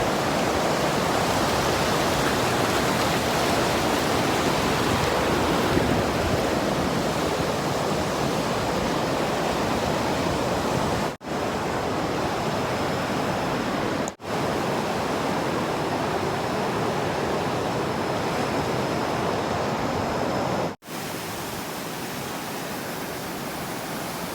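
Water rushes in a steady, loud, unbroken flow, like a stream or small waterfall nearby in the rural Laos countryside, with a few brief dropouts.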